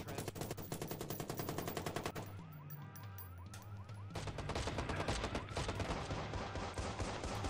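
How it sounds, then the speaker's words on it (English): Rapid bursts of automatic gunfire from the video game Watch Dogs, loud and dense, broken by a short lull with an electronic warbling tone before the shooting resumes. "stop shooting at me"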